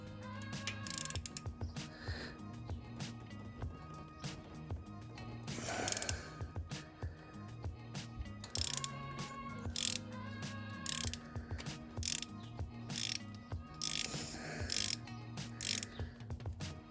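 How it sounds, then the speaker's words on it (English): A ratchet working the timing belt tensioner on an Alfa Romeo Giulietta 1.4 engine, bursts of quick metallic clicking in uneven spurts with pauses between, close up and fairly quiet. "now that everything is locked up, we can loosen the tensioner"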